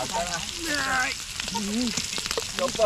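Chicken pieces fry on a clay roof tile over a village cooking fire, giving a steady, close sizzle and crackle throughout while voices talk intermittently over it.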